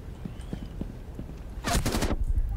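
A quick burst of rapid pistol gunfire in the video game Rainbow Six Siege, several sharp shots packed together after a few quieter soft knocks, loud against a low background.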